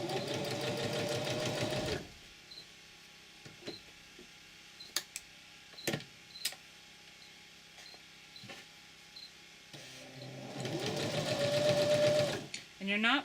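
Sewing machine stitches binding tape onto buckskin moccasin uppers: a loud, rapid mechanical run for two seconds, then quiet handling clicks and taps, before the machine whirs again near the end.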